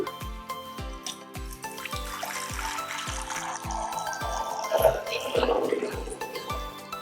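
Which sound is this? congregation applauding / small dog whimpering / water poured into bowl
water poured into bowl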